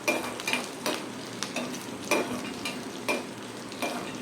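Ginger and curry leaves sauté in a pan with a soft, steady sizzle, punctuated by regular light scrapes and taps of a spatula stirring every half second or so, close but fairly quiet.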